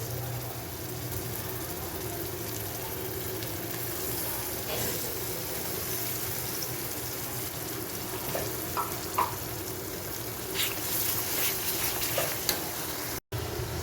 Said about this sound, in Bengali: দিচ্ছি 1 টেবিল চামচ আদা ও রসুন বাটা, দিচ্ছি 1 টেবিল চামচ পেঁয়াজ,